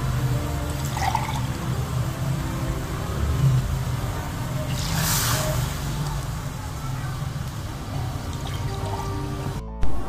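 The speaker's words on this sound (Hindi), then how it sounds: "आधा किलो चावल है तो इसमें फिर हम 1 किलो पानी ऐड करेंगे।" Water poured into a cooking pot of rice for beef pulao gives a steady, continuous wash of sound that runs throughout, with a light clatter near the end.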